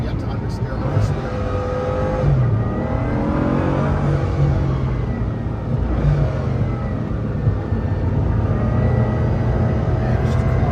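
A car driven hard at speed, its engine droning loudly and steadily with shifting revs and road roar throughout, while voices talk over it.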